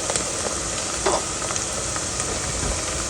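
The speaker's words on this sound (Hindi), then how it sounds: "मैंने ब्लेंड कर लिया था प्याज़ों को, तो इनको ब्राउन होने तक भूनेंगे" Blended onions fry in half a cup of oil for a Sindhi chicken biryani, giving a steady close sizzle with light stirring scrapes and no talk.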